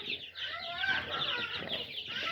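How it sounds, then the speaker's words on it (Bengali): Chickens in a 200-bird hatchery cluck and chatter close by, a busy run of overlapping clucks and squawks rising and falling throughout. "এই মুরগিটা কি হয়েছে?"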